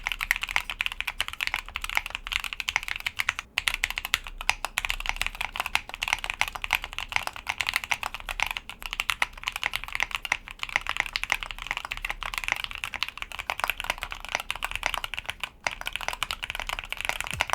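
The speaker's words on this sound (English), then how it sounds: "It definitely livens up the keyboard and doesn't overdo the marbly sound by itself." Typing on an Epomaker X Createkeebs High65 V2 keyboard fitted with PE foam, giving a steady, close stream of rapid, crisp keystrokes with occasional louder clacks and no talking.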